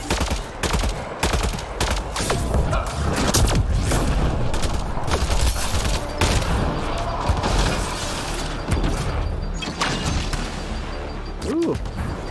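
Gunfire in the sci-fi shooter Mass Effect Andromeda, dense rapid shots and mechanical clatter running nearly continuously under game effects, loud and busy throughout.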